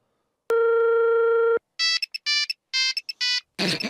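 Phone call tones: a long steady electronic beep, then several short bursts of warbling ringtone in a regular pattern, loud and close, ending in a burst of noise.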